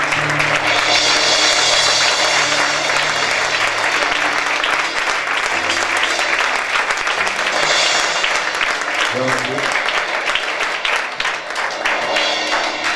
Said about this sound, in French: je voudrais qu'on acclame le Seigneur pour le prophète Patrick